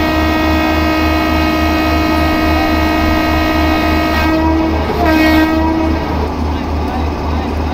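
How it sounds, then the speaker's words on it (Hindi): A long, loud horn blares steadily from the Garib Rath Express locomotive as it departs in WCR Train Simulator 2022, with a low rhythmic engine throb underneath and a brief shift in tone near the end. "अभी यहाँ से हॉर्न बजाकर हम लोग डिपार्ट करते हैं"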